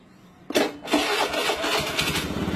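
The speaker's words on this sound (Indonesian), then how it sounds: "Nah, motor hidup ya." A Honda Beat fuel-injected scooter engine cranks and catches after being jump-started, a sharp starter burst followed by the small engine settling into a fast, steady idle close by.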